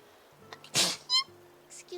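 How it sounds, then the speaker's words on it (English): A single sharp, breathy sneeze bursts out close and loud, followed by a short voiced exclamation, with quiet synthesized tones from an Animal Crossing game playing underneath. "Sorry for sneezing in your ear the second you get here."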